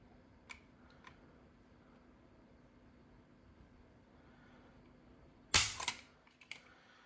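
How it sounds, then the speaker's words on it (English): A pistol's trigger is pulled against a trigger gauge, giving one sharp, close metallic click of the action releasing, followed by a few faint rattles, after several small handling taps. "We'll test it once right here with our trigger gauge."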